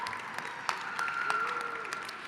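Applause from an audience at a women's business conference, a steady dense patter of clapping with a faint murmur of voices running underneath.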